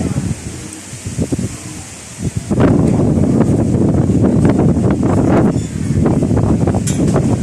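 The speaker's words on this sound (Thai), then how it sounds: "โอ้โหลมแรงเลย" Strong wind blowing at a temple floating market, loud gusting rush buffeting the microphone and rising sharply partway through, with faint voices underneath.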